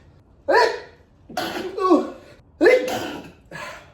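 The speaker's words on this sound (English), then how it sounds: "I have to sneeze" Four sharp, explosive sneeze-like bursts from a person close by, spaced out over a few seconds with quiet breaths between them.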